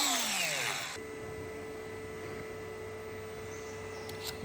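A power grinder used while trimming a cow's hoof, a sharp whirring descent in the first second giving way to a steady motor hum that holds at moderate level, close by with no voices.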